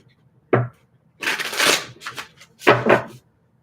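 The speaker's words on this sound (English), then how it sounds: "let's get a few more cards from the Black Tarot" A deck of Black Tarot cards is shuffled and drawn close by: a quick riffle, a longer rustling shuffle, then a final snappy burst of cards, with silence between and no speech.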